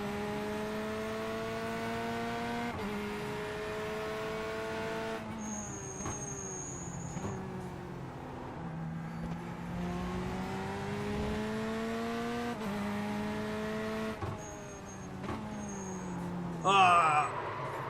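Race car engine in the iRacing sim at Watkins Glen, a steady harmonic drone rising and falling through gear shifts and revs, with brief tire squeal near the end and a voice talking over it.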